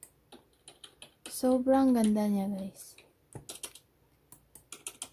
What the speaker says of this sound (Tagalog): Keyboard typing 1.